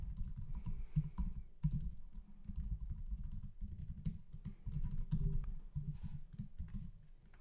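Steady, rapid typing on a computer keyboard while contact details and login credentials are entered on a sign-up page, a continuous close patter of key clicks with no voices.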